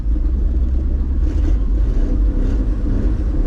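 A 1964 Chevy grain truck running and driving: a continuous low rumbling engine, close and fairly loud, holding a steady tone without any talk.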